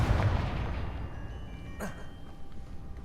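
A Confringo fire spell blasts in Hogwarts Legacy, with a booming burst at the start that rolls off into a rumbling tail, then a sharp crack later among lingering low background noise.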